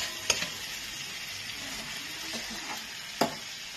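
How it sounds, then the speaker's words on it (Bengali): Pointed gourd and pumpkin pieces frying with potatoes in a pan, a continuous moderate sizzle broken by a few sharp clattering stirs and spatula knocks. "আলুগুলোকে দিয়ে কিছুক্ষণ কষানোর পরে এবার আমি পটল আর কুমড়োটাকে এর মধ্যে দিয়ে"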